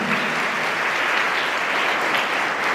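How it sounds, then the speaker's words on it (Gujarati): A large crowd at a school girls' education and admission festival claps continuously and evenly, a dense wash of applause that holds steady throughout. "એમને પણ જોરદાર તાળીઓના નાદથી વધાવીએ"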